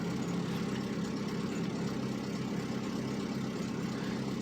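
A car engine idles after a cold start, a steady, faint low rumble held evenly for a few seconds with no voices.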